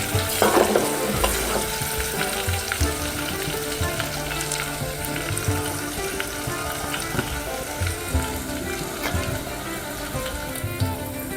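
Garlic and ginger frying in hot oil for a mutton curry, stirred steadily with a spatula; a continuous close sizzle with scraping strokes against the pan and a few sharper clatters, no talking.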